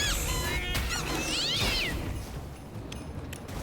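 A cat in the action video game Don't Die, Minerva! lets out several loud, wavering meows and yowls close by, mixed with game combat thuds and clatter.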